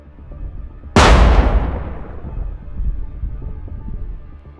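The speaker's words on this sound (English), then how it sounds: "The drone hits the vehicle head-on, causing it to stop, followed by a powerful explosion." A Russian armored vehicle hit head-on by a drone explodes in one sudden, powerful blast that rolls away into a long rumbling decay, with no voices.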